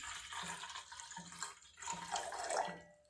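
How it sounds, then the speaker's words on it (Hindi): Water is poured into a pot sitting on a gas stove, a faint, uneven splashing and trickling that swells and fades in a few surges, with no talking. "तो यहाँ पे मैंने डाल दिया है 350 ml पानी"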